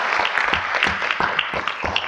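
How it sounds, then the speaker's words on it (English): Round of applause at a board meeting, steady clapping from a room of people with some nearer, sharper claps standing out over the wash. "Another round of applause."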